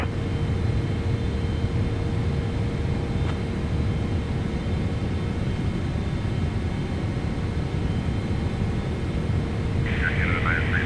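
A steady, loud, broadband roar from a Boeing 777-300ER airliner on approach to Toronto runway 23 in Microsoft Flight Simulator 2024, continuous throughout, with a brief higher tone near the end.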